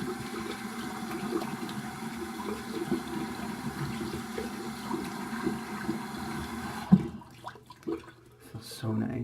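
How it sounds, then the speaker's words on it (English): Cold water rinse running in a bathroom, a steady close hiss of flowing water that cuts off abruptly near the end, leaving faint drips and quiet. "I almost forgot the cold water rinse."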